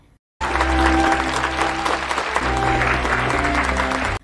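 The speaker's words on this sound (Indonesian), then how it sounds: "Di tengah sambutan tepuk tangan yang meriah untuknya, Won-soo teringat kembali" Lively applause at a party in a Korean drama scene, a dense sustained wash of clapping that starts abruptly and fills the whole moment, with music tones layered underneath.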